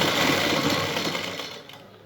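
A sewing machine runs in one fast, steady burst up close, stitching gum lace onto fabric, then winds down and stops near the end.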